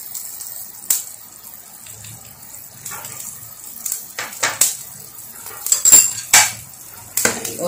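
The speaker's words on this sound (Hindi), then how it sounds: "और अब हिलाकर इसको सारे को फैला देंगे अंडे को।" Beaten egg poured in a thin stream into chicken vegetable soup in a pot, then stirred through: soft liquid splashes and gurgles with scattered light clinks of a utensil against the pot, close and moderately quiet.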